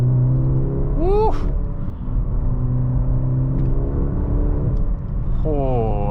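A Maserati Grecale GT in sport mode, shifted with paddles, revs hard from inside the cabin: two sharp climbing engine surges rise over a steady road drone.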